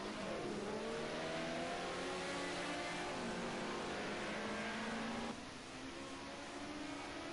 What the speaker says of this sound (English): coming around the last corner now is this man, Adam RX, will win here in Zolder